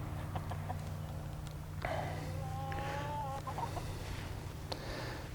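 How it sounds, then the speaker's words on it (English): Garden chickens cluck and chatter faintly at a distance, with a short rising call in the middle over a steady low hum of background noise. "Here are the chickens."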